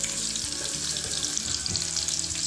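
Sliced shallots sautéing in hot oil in a pan, a bright continuous sizzle up close with occasional soft stirring knocks underneath.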